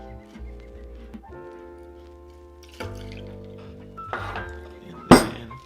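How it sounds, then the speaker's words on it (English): Two ounces of 10 to 1 dark rum poured over ice into a glass, making a steady trickling pour whose pitch shifts as the glass fills, then a sharp glassy clink near the end. "we are going to add 2 ounces of our 10 to 1 dark rum"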